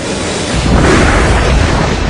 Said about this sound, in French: Les supernovas sont les explosions les plus puissantes depuis le Big Bang